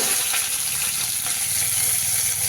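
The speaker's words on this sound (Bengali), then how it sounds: "তো 3টে মাছকে ভালো করে ভেজে নিয়ে তারপরে বাদবাকি 2টোকেও ভেজে নেব" Bhola fish fry in hot oil in a small wok, giving a close, steady crackling sizzle that holds evenly throughout, with no voices.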